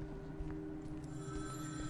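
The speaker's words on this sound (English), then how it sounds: "Now there's a phone ringing." A telephone rings in the slasher video game Cold World, a steady electronic ringing tone heard faintly over a low humming ambience, with no talking.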